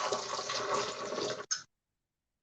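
Water pours from a jar into a blender as a steady, full splashing rush that stops abruptly, followed by a brief drip and a short later splash.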